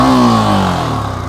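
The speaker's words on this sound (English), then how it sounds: "Do you want to hear an exhaust note?" A Yamaha R15 V4 motorcycle's exhaust rumbles in a single short, loud burst, its pitch sliding downward as the revs drop back, close by and with no voices.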